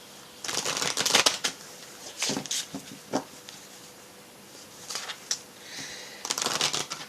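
Oracle cards from the Guérir avec les anges deck being shuffled by hand, close riffling bursts in several uneven bouts with short pauses between them, no voice over them.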